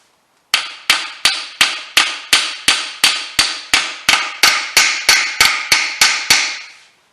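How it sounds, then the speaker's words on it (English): An air chisel hammers a stuck part on an abandoned 1977 MGB, firing sixteen loud, evenly spaced metallic blows about every half second, each ringing briefly before the next. "I might have to get my air chisel and bump it right there."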